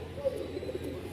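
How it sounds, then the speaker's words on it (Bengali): Frightened pigeons give low, muffled coos in a short burst at close range, with faint handling noise and no clear talking. "ভয় পাইতেছে কবুতরগুলো"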